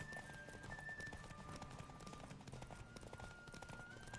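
Horse hooves pound in a steady galloping clip-clop in The Witcher 3, a continuous running rhythm layered over game music and ambience, with a faint voice now and then.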